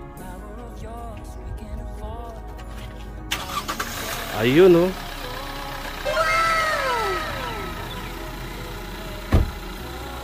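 A car engine cranks and catches after an engine oil change, then settles into an idle, with a person speaking briefly nearby and a cat meowing in the background.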